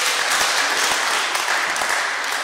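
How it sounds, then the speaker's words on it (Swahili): Dense, loud applause from a crowd fills a parish leaders' workshop in Embakasi East, a continuous wash of many hands clapping for the teacher with no voices over it. "Makofi kwa mwalimu wetu siku ya leo."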